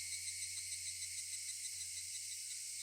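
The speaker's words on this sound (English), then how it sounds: "Only the cry of the cicadas remained annoyingly loud" Cicadas from the Higurashi visual novel keep up a steady, dense high-pitched drone with no break, alone and fairly loud in a summer scene.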